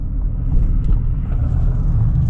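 A 2026 GMC Terrain AT4 compact SUV heading downhill off-road, giving a steady, close low engine and road rumble with no voices over it.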